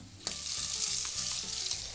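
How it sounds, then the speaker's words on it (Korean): Noodles are dropped into a frying pan with garlic and olive oil for a vegan gochujang cream pasta, setting off a sudden, loud, continuous sizzle with faint stirring sounds underneath. No one speaks. "자, 이 상태에서요, 면을 여기다 투하해 줍니다."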